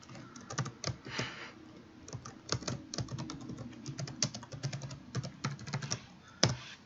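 Typing on a computer keyboard during a live stream, a steady run of close, crisp key clicks with brief pauses, loud and alone with no talking.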